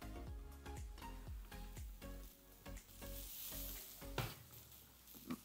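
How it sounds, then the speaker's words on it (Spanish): Chopped green onions fry and brown in a hot pan, a steady close sizzle with rhythmic stirring scrapes and light clinks throughout. "Tenemos que esperar que se dore el cebollín para poder agregar los tomates"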